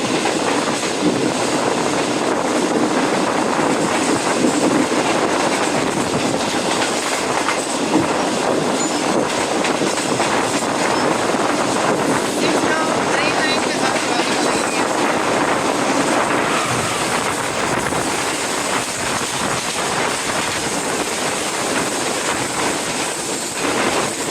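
Shalimar Express train running at speed, heard from onboard near the engine end of a deluxe dining car: a loud, steady roar of wheels and carriage rumble with continuous rattling and faint clickety-clack throughout, no talking.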